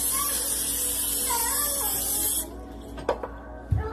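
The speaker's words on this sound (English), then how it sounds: "spray it with whatever spray you have" A steady hiss of aerosol cooking spray on Cornish hens for air frying, lasting a couple of seconds and stopping abruptly, followed by a few light clicks and a soft thump.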